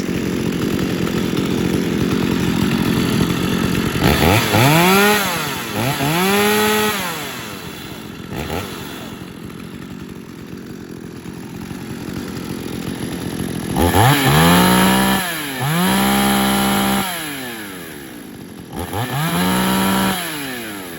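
Two chainsaws running together, engines idling with a steady rattle and revving up in repeated rising-and-falling surges, loud and close with no talk.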